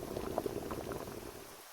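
Water boils while clean water is crafted in the video game Terminus, a continuous bubbling gurgle with scattered pops that fades out at the end, quiet and alone.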